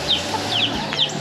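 Backyard chickens kept by a Lao family at a home in Alabama cluck in a few short, bright calls over a steady outdoor hum, close and fairly clear, with no talking.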